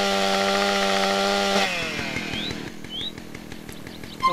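Chainsaw in GTA San Andreas, a loud steady idling buzz that suddenly drops into a rougher, choppier running sound with brief high chirps, ending in a short burst.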